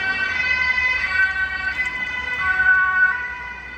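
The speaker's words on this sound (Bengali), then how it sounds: "এটা একটা অ্যাম্বুলেন্স ছিল অ্যাম্বুলেন্সের কত শব্দ" A loud ambulance siren wails steadily, its tone rising and falling as the vehicle passes nearby along with faint road noise.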